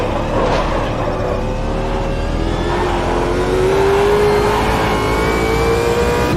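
Race car engine at Bathurst in the Automobilista 2 racing game, a loud sustained drone with a rising whine as the car runs down the Conrod Straight, then easing off under braking; no talk.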